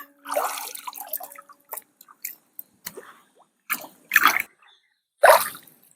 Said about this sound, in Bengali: শাপলা তুলতে গেলে একটু জলে হাতটা ঢোকাতে হবে।